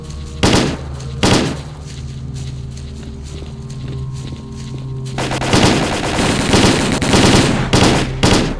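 Gunfire in the video game S.T.A.L.K.E.R. Call of Pripyat: a couple of isolated loud shots, then a sustained burst of rapid overlapping automatic fire over a steady low game hum.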